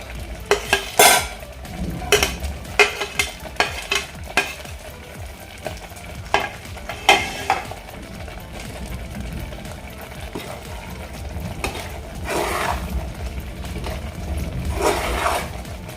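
A spoon stirs thick jaggery porridge (daliya lapshi) with dry fruits mixed in. The scraping and clinking strokes are close and uneven, with a soft bubbling sizzle underneath and no talk.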